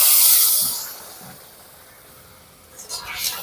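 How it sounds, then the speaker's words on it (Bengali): Water poured over sugar in a hot wok to start a sugar syrup gives a loud hiss at the start that quickly fades to a low, steady rustle, then a little more hissing near the end. "যতটা চিনি নিয়েছি তার হাফ জল দিয়ে দিচ্ছি।"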